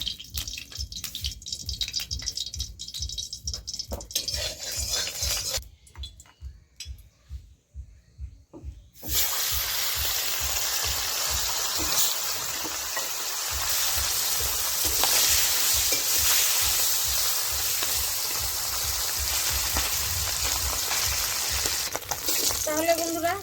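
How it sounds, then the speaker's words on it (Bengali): Singhi fish frying in hot oil in a wok over a stove, a steady loud sizzle with spitting and crackling bursts, briefly dropping away before surging back strongly, with someone speaking at times. "তাহলে বন্ধুরা শিং মাছ ভাজা হয়ে গেল"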